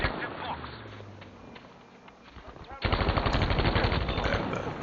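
Rapid, loud bursts of M1928 Tommy gun fire in a video game, a dense stuttering stream starting midway after a quieter stretch of game noise and muffled effects.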